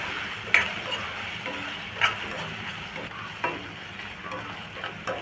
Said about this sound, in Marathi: इथे लसूण घेतलेलं आहे। तोही चांगला आपण परतून घेऊ।